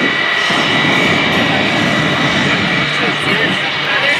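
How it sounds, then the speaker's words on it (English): An airplane making a rolling pass at the NAS Oceana air show in 2022, a loud steady engine roar that stays close and sustained throughout. "Now let's watch as Bob salutes the men and women who fly our unmanned aerial vehicles"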